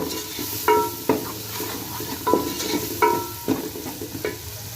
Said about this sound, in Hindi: और इसे हमने भून लेना है अच्छे से ताकि मसाले का जो कच्चापन है वो ख़त्म हो जाए अच्छे से।